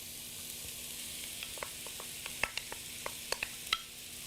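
Pre-cooked basmati rice tossed into a hot pan for chili beef and shrimp fried rice, a steady soft sizzle under scattered light clicks and scrapes of stirring, close and fairly quiet with no talking.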